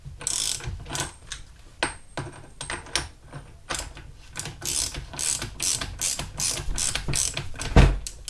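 Near and clear, a ratchet socket wrench clicks in quick bursts of sharp pawl ticks as it works on the front suspension cap of a Honda CBR1100XX Blackbird motorcycle, with short pauses between the strokes and no talk.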